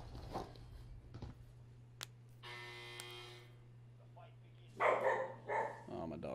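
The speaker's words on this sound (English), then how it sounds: "Barking." Dogs barking in a Call of Duty Warzone match, a few sharp barks near the end over a steady low hum and a buzzing tone, with game noise around them.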